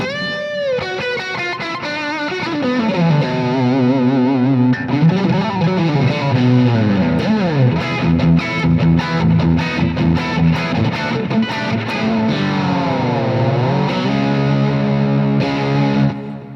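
Distorted electric guitar through a boost pedal on a vintage amp channel, with a creamy boosted tone, playing sustained notes, bends and quick riffs, loud and unaccompanied.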